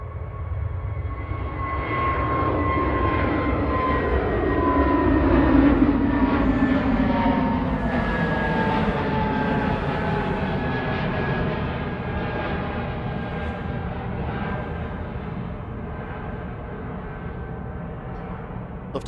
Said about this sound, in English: EasyJet to Milan, OE ISG on the roll, flight 3838.